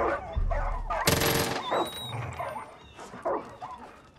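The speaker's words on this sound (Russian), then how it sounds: "Так, это обычные собаки." Dogs bark and yip in Far Cry 5, a few short, mid-distance barks with a whimper, mixed with game ambience and a brief loud burst.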